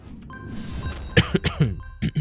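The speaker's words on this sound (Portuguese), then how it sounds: "Desculpa pela tosse, galera." A man, hoarse and unwell, gives a run of several harsh coughs in quick succession, close to the mic, after a brief stretch of low background murmur.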